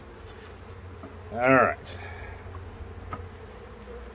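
Honey bees hum softly around an open hive during an inspection, with one bee buzzing loudly close by for a moment. A person speaks briefly.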